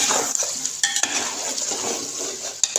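Beef karahi with green chillies cooks in a pan, giving a steady bright sizzle with intermittent metallic scrapes and clinks of a spoon against the pot, close and continuous throughout.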